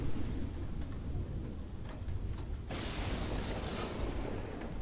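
Thunder rumbles with rain in a Flashpoint video game lightning scene, steady broadband roar that swells into a louder crack and wash of noise midway through, no talking.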